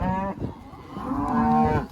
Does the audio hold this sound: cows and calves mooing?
yes